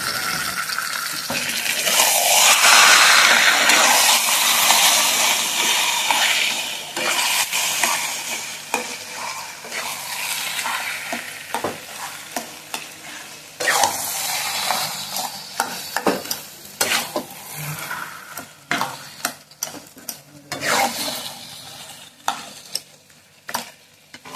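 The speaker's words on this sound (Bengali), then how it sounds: "এখন কিন্তু ভালোভাবে কষতে হবে, একটু ঢেকে ঢেকে দিতে হবে মাঝে মাঝে।" Boiled taro leaves for a hilsa fish head dish, stir-fried with salt and turmeric, sizzle and scrape steadily in the pan, with a spatula clattering and stirring in bursts. The frying is loudest early and turns into choppier stirring strokes later.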